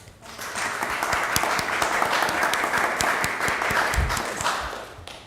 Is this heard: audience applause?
yes